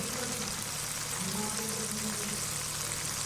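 Ground red chilli, turmeric, coriander and salt frying in oil in a pan for beef keema with kachnar: a steady, even, crackling sizzle, constant and close throughout, with no voices.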